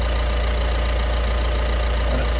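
A MAN or VW Crafter diesel van engine idles steadily during an EGR valve test, a constant low mechanical hum with no voices over it.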